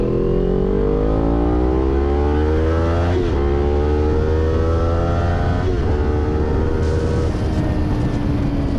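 A Kawasaki Ninja 400 motorcycle accelerates hard through several gears, its engine note climbing in pitch with brief dips at each shift, loud and close throughout.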